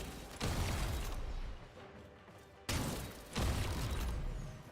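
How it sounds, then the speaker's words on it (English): Explosions in the video game Warframe sound as two loud, booming blasts of broad roaring noise, each bursting in suddenly and rumbling on for about a second, with no voices over them. "That was such a cool explosion."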